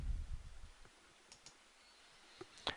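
A few sharp mouse clicks on a computer running Microsoft Access 2013 database software, quiet and close, spaced over a couple of seconds after a brief low rumble, with no talking.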